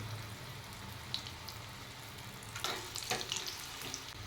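Six dried red chillies frying in hot oil while dal khichdi is cooked, making a quiet, continuous sizzle with a handful of brief crackles and stirring sounds.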